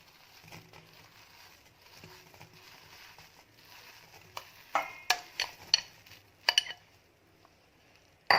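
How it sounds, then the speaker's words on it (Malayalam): Soya chunks being stirred with masala in a pan, a faint scraping under quiet background hiss, then a series of sharper spoon clatters and scrapes against the pan toward the end. "ഇനി ഇത് നന്നായിട്ടൊന്ന് നമുക്ക് മിക്സ് ചെയ്തെടുക്കാം."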